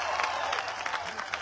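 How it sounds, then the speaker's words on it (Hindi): A crowd at a public meeting in Solapur, Maharashtra claps to welcome a speaker, scattered, moderately loud applause with separate hand claps standing out, fairly close and briefly sustained. "जोरदार तालियों से फारूक शाब्दी का इस्तकबाल करिएगा"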